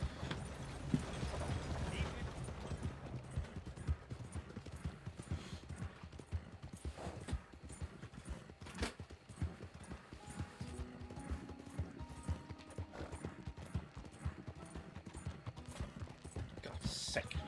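In Red Dead Redemption 2, a horse's hooves clip-clop in a quick, steady rhythm, with a faint whinny, over quiet game sounds.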